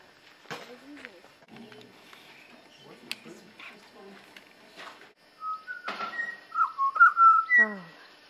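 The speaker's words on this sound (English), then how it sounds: "that was the pied butcherbird, wasn't it?" A pied butcherbird gives a string of clear, fluted whistling notes out in the Australian outback near Dalhousie Springs, coming after faint, scattered talk and other quiet sounds.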